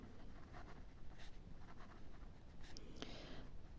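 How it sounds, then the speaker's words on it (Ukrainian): A pen writing an answer on paper, soft continuous scratching strokes close by with a few brief taps, quiet and alone. "Пишу відповідь."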